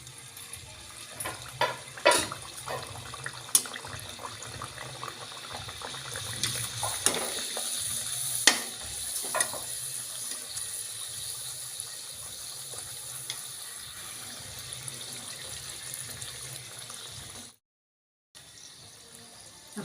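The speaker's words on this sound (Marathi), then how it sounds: "कढईतलं तेल तापलेलं आहे," Puri dough frying in hot oil in a kadhai, a soft continuous bubbling hiss with a few sharper splashes and spatters early on, fairly quiet and close, no talking.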